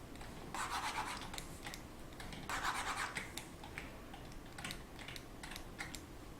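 Computer keyboard keys pressed in bursts of quick taps and clicks during a Blender sculpting session at a desk, close and moderately loud with short pauses between runs of keystrokes.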